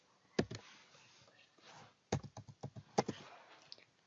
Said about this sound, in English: Here I'm gonna type in my job title